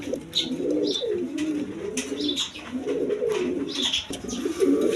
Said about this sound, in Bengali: একবার সুস্থ সবল কবুতর